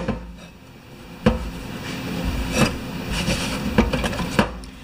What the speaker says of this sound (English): I do have a whole whack of 3/8 hex nuts that I will throw in here, and maybe a few bolts.